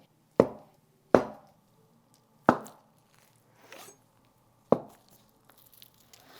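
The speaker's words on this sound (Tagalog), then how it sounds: "So, hiwain muna natin yung tofu." A knife slicing through tofu on a cutting board, four distinct close thuds at uneven intervals with a softer sound in between, clear against a quiet background.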